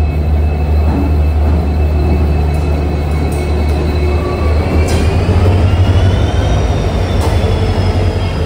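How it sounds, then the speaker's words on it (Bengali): Humsafar Express train at a railway platform, steady loud low rumble and hum throughout with faint wheel squeals and occasional high whistling tones, no talking. "1 নম্বর প্ল্যাটফর্মে আমাদের হামসফর এক্সপ্রেস দিয়ে দিয়েছে"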